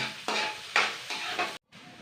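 Food fries in a pan for kinunot before shark meat goes in, with a steady close sizzle broken by several scraping stirs of a utensil against the pan and a brief cut near the end.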